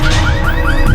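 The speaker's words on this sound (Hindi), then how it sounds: "वो गाड़ी का अलार्म बज रहा है।" Alarm of a green Volkswagen car sounding in a dubbed action film: loud, fast, repeating rising electronic wails, close and continuous.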